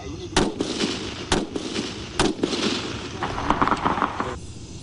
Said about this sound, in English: The soldiers now spend hours each day at the firing range, learning proper shooting technique.